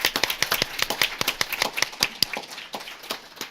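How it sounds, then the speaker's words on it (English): A small audience at a criminal justice reform panel gives a round of applause: sparse, distinct hand claps at an irregular pace, fairly close and thinning out toward the end. "give him a round of applause."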